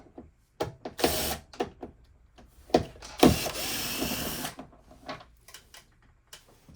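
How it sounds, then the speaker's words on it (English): A power drill drives Phillips and T20 screws on the outer window belt trim of a 1998–2000 Ford Ranger, in short separate bursts of whirring with clicks and handling noises between them. "I have two different drills, so that way I don't have to swap out the bits."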